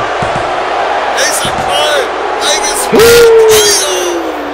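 A wrestling match crowd cheers and roars in a large venue. The noise swells near the end, a commentator talks over it, and whoops rise from the crowd.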